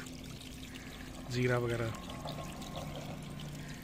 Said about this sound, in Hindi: ये वॉश हो रही है जनाब हमारी मछली